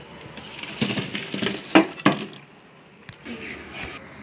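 Metal cooking pot of boiled potatoes and eggs lifted off a stove in a home kitchen. Light scrapes and rattles lead up to two distinct metallic clanks close together, followed by softer knocks and shuffling.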